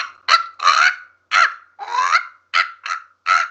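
A man imitates crow caws with his voice: eight loud, harsh, nasal honking calls in quick succession, each short and separated by brief pauses.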